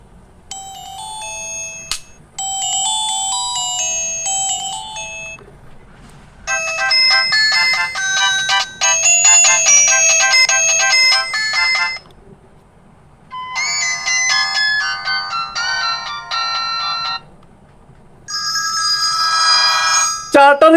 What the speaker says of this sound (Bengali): চলুন আমরা তার আগে দেখে নিই যে ফোনটির রিংটোনের সাউন্ড কতটা হবে।